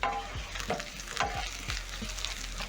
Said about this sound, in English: Add in some garlic and saute until the garlic is fragrant and the green onions are soft.